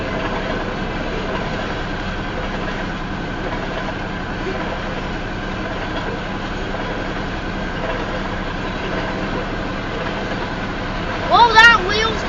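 A southbound Union Pacific tanker train passes at about 35 mph south of Elkhart, Iowa, a steady rumbling rail roar with wheel clatter held throughout, close and loud, while a voice talks briefly near the end.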